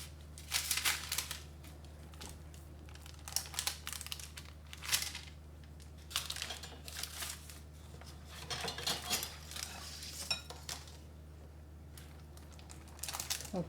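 Pâte de fruit being cut into small cubes with a knife, irregular bursts of slicing and tapping on a board, close and fairly quiet over a low steady hum.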